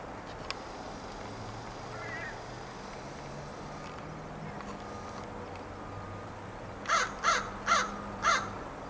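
Crow caws four times in quick succession near the end, fairly close and clear over a quiet outdoor background with faint low rumble.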